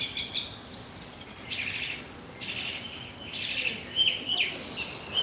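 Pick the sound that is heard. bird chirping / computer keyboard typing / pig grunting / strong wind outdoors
bird chirping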